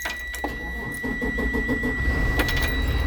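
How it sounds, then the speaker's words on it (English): A school bus diesel engine cranks with a short whir, catches and settles into a low, rumbling idle, close by, with a faint electronic whine over it. "So what I'm going to do now is start the bus up."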